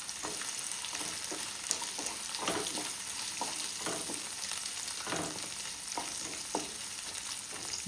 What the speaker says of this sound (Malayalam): നമ്മൾ മുളകും ഉള്ളിയും എല്ലാതും വഴന്ന് വരുന്നുണ്ട്